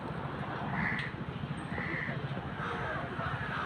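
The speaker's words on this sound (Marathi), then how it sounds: "कावळे काऊ काऊ करताय वरती" Several crows caw faintly at a distance, the calls recurring over a steady, low background rumble.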